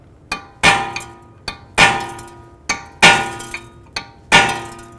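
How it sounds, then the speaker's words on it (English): Four paired metallic strikes ring out at an even pace, each a light tap followed by a harder clanging hit of a hammer on a punch against a stuck set screw on a 2010-2017 Chevrolet Equinox front knuckle. "I'm just going to use a punch and punch in on the set screw."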